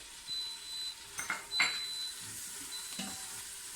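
Tomato puree added to a pot of dhal fry, sizzling softly in the hot pan while a spoon scrapes and stirs against the metal in a few brief bursts.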